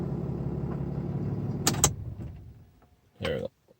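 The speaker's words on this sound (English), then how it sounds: "Let's turn the truck off." A Dodge Ram heavy-duty pickup shuts off, its running hum winding down to near silence, followed by a short burst of a mechanism or chime near the end; a brief clack sounds midway.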